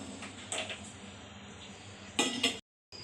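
Herbal immunity kadha being strained into a glass, with soft metal utensil clinks and scrapes scattered through a quiet kitchen, a louder clatter near the end before a brief silence.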